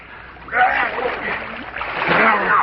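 Splashing in bay water as a man is held under, bursts of churning water and struggle sounds rising and falling close by, with vocal noises mixed in.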